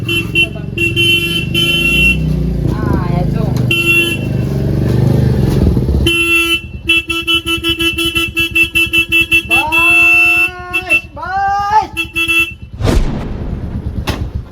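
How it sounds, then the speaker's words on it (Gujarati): Motorcycle engines rumble nearby amid street traffic, with repeated horn honks and a few voices talking over the noise. "વિજ્યા આ બાઇક લઈને આવી"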